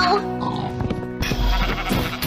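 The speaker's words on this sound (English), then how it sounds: "We got a sheep this time!" A Minecraft sheep bleats in short, loud wavering calls close by, mixed with game sounds and voices talking at the same time.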